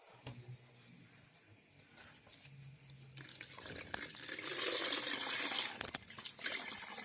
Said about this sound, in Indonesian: Kita saring santannya, kita peras sampai semua santannya keluar ya Mams.